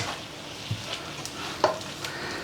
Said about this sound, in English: throw in a little bit of spring onion, give it a stir through